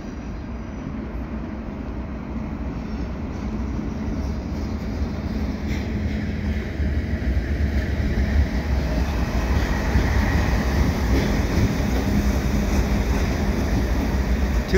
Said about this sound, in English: it's a nice long freight train